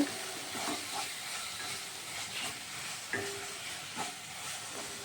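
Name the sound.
jackfruit and prawn mixture being sautéed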